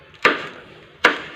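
A knife cuts green chillies on a board, giving two crisp, separate chops about three-quarters of a second apart, close and clear with no talking.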